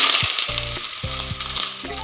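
Onions frying in hot ghee with cinnamon and cloves for restaurant-style paneer butter masala, a loud close steady crackling sizzle accompanied by a rhythmic low thudding beat.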